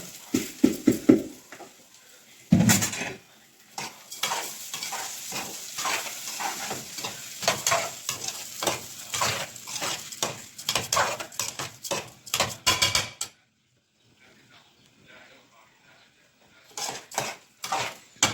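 Repeated clattering and banging of pots and pans, irregular and fairly loud, runs through most of the clip before a short quiet stretch and more clanks.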